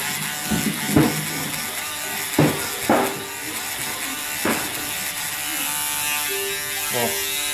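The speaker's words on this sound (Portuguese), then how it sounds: "Vou raspar o coco dele aqui." An electric hair clipper buzzes steadily while shaving a head for a skin fade. It runs close and continuous under brief bursts of speech, with a few sharp knocks and clicks along the way.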